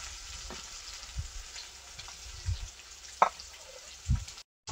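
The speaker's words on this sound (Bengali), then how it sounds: "মাছগুলো ভাজা হয়ে গেছে, তুলে নেব আর বাকি মাছগুলো ভেজে নেব।" Katla fish frying in oil over a clay stove: a steady, close crackling sizzle with a few soft knocks and clinks, then a brief drop to silence at the end.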